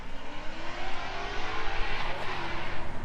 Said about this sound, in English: You're gonna hear the Ford Performance and Gateway Mustang folks over there doing some demo rides